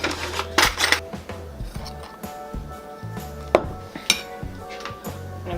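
Utensils clink and scrape against a bowl while ingredients are mixed for a turkey rub, a run of close, irregular taps and knocks with a few sharper strikes, over a steady background hum with no talking.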